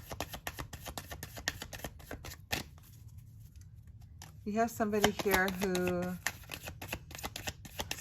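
Tarot cards being shuffled in a quick riffling patter of crisp, rapid card flicks, with someone talking over part of it and a brief pause in the middle.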